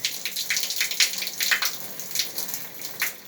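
Cold water runs from an outdoor tap on a newly installed polypropylene hot and cold water line under low pressure, a steady, moderately close splashing stream with spattering bursts throughout.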